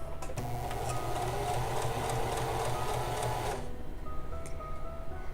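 A sewing machine stitching tucks runs in a steady, fast mechanical whir for several seconds, then stops abruptly, leaving quiet room tone.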